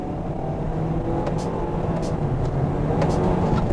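A 2020 Hyundai Elantra driving and braking lightly, heard from inside as a continuous low engine and road rumble with a few faint squeaky clicks near the end, no talk.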